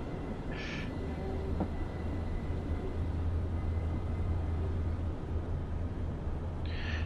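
A train rumbles steadily along the Woodhead Line in a train simulator game, a continuous low drone with faint brief chimes near the start and end.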